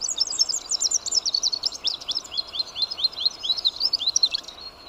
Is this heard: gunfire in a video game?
no